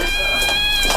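A person imitating a cat meowing in a basket, a short sustained dubbed meow-like voice with steady tonal harmonics, close and fairly loud.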